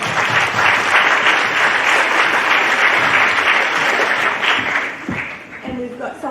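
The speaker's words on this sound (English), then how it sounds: "Give her a round of applause." A crowd at a live science week talk breaks into sustained, loud applause, dense clapping holding steady before thinning out near the end as a voice begins to speak.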